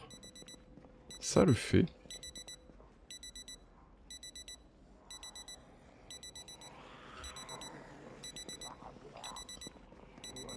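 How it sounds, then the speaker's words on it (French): Wristwatch alarm in the video game Project Zomboid, a repeating high electronic beeping pattern that keeps ringing in regular bursts throughout, with a brief loud thump early on and a short spoken remark over it. "C'est bien ce petit silence là avec la sonnerie de la montre."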